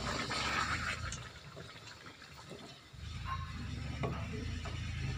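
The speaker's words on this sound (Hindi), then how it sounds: "थोड़ा पानी ऐड कर दें।" Water is poured into a pan of chicken curry masala with whole green chillies, a soft, faint splash and trickle that dips briefly and then resumes steadily.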